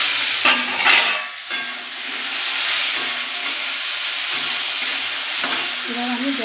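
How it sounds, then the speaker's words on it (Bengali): Sliced okra fries in a pan with a loud, steady sizzle and hiss, broken by a few scraping stirs and clatters of a spatula against the pan, close up. "একটু নাড়াচাড়া দিয়ে ভেজে নেবো ভালো করে"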